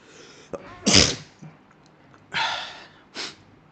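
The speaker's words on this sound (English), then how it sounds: "did I just dab while I sneezed?" A person lets out one loud, sharp sneeze up close, followed by two breathy exhales or snorts a moment later, against faint background hiss.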